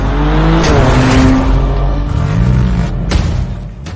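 A 700 HP Mitsubishi Lancer Evolution X engine revs loudly and close, with a steady heavy roar that rises and falls over several seconds and a sharp rev burst near the end.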